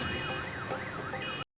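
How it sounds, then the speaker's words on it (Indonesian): A two-tone wailing alarm siren in a film, rising and falling in a steady repeating sweep, loud and continuous for about a second and a half before cutting off abruptly. "menipu para penjaga dengan suara alarm."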